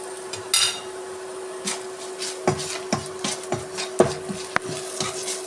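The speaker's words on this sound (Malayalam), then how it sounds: "നന്നായി ഒന്ന് വഴറ്റിയെടുക്കണം മസാലയുടെ ഈ പച്ചമണം പോകുന്ന വരെ" Spice masala of turmeric, chili and coriander powders with salt is sautéed in a pan for a spicy mackerel curry, with soft sizzling under a series of sharp spoon scrapes and taps against the pan.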